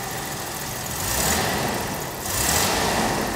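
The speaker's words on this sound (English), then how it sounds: "and the engine accelerates normally" A Jaguar engine with Bosch D-Jetronic fuel injection revs up from idle in two rising bursts, loud and close, with no talk over it.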